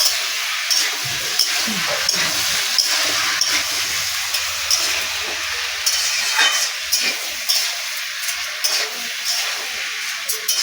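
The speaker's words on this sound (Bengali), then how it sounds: "হলুদটা দিয়ে ভালো করে নাড়িয়ে নেবো।" Turmeric is stirred into food frying in a pan, with a continuous loud sizzle broken by repeated scraping strokes of the spoon across the pan.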